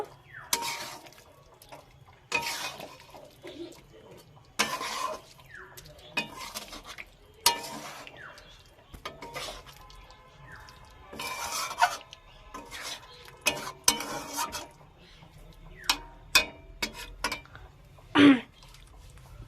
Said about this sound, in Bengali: এবার একটু ভালো করে নেড়ে নেব